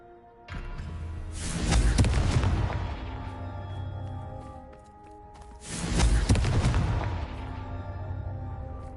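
Two heavy booming blasts from the Confringo blasting spell in Hogwarts Legacy, each a loud burst with a rumbling decay, spaced several seconds apart with no talk.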